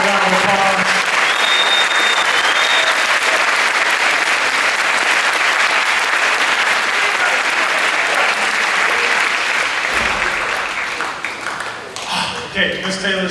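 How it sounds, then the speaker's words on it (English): A high school audience gives a student a loud, dense round of applause that fills the space steadily, tapering off near the end as voices begin to come through. "Give young lady a round of applause"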